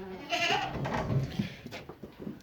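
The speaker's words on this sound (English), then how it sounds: "naughty goat" Goat bleating in a farm pen, a few wavering cries close by amid rustling and other animal noise, no talking.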